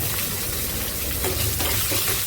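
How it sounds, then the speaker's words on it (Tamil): Crushed garlic frying in oil in a pan, a steady close sizzle with slight stirring, heard alone. "இப்போ நல்லா வறுப்படுது"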